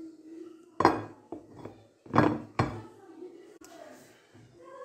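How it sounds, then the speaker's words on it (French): A steamer basket clinks against a cooking pot as a spatula is slipped under it to lift it out, with a few sharp metallic knocks and scrapes, close and moderately loud, and no talking. "avec la spatule, on insère la spatule et on peut porter le panier cuisson sans se brûler"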